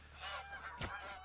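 Geese honk in theHunter Call of the Wild, a few close, nasal calls over a low steady background hum, with one loud sharp honk near the end standing out above the rest.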